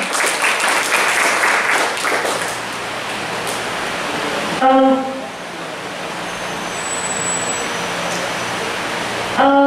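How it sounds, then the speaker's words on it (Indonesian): Audience applause at a journalism seminar, a dense rush of clapping at the start that fades into a noisy room, broken by brief tonal chimes or beeps. "Boleh tepuk tangan dulu dong"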